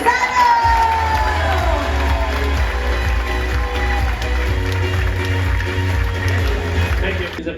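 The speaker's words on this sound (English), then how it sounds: "Put your hands together for Captain Giuseppe Gazzano!" An audience aboard the MSC Meraviglia cruise ship applauds, whoops and cheers for the ship's captain: a dense, loud crowd roar with clapping throughout and some shouting voices.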